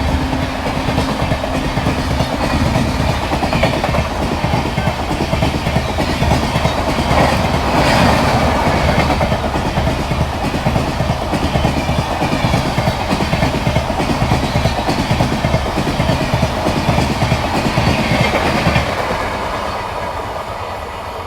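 The Ahmedabad Borivali Express rumbles along the tracks with a steady rhythmic clickety-clack of the wheels, loud and continuous from on board, fading slightly toward the end with no talking.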